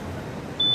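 A motorcycle's keyless system gives one high, steady electronic beep that starts late and runs to the end, sharp and close over a low background rumble.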